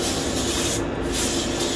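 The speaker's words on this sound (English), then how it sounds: "spray off the heads" Brake cleaner sprayed from an aerosol can onto older, oily cylinder heads, a short continuous hiss close up with a brief dip midway and no talk.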